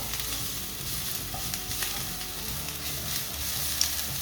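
Cumin seeds sizzle in a tablespoon of hot olive oil in a pan, a steady close crackling hiss with small pops that runs evenly throughout, with no voices.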